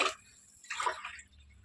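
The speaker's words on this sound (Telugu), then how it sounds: "నేను ఇప్పుడు ఐదు గ్లాసులు నీళ్ళు పోస్తున్నాను" Water poured from a glass onto rice for Andhra-style chicken pulao, two brief splashing pours about half a second apart, close and fairly quiet with no talk.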